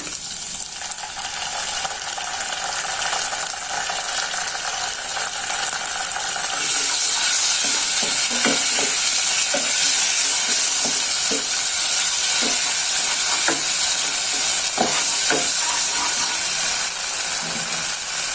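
Rawon spice paste sizzles steadily in a hot pan while a utensil scrapes and stirs it in repeated clicks and scrapes, close and loud, with no talking.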